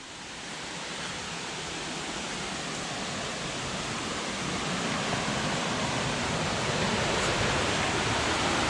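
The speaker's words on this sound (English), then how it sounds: "I hear the creek running." Laurel Creek water rushing over big rocks near a trail, a steady broadband wash that swells slightly louder and stays constant, with no voices.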